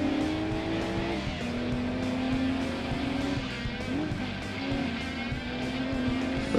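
Race cars in Gran Turismo 2 on an arcade circuit, a continuous engine drone with shifting pitch and a brief tire squeal, loud and steady with no voices.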